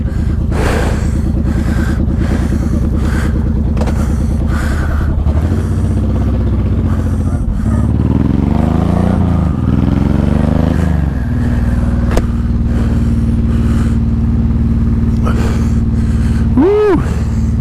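A motorcycle rumbles steadily up close on a chilly 32-degree day, its engine pitch rising and falling through gear changes, with wind noise and heavy breathing.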